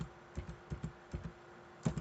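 Numbers being typed on a computer keyboard while entering data into an Excel spreadsheet: soft, close keystrokes tapped at an uneven pace, about seven clicks, ending with a slightly firmer press.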